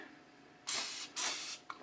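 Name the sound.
spray lubricant hissing onto airsoft pistol rails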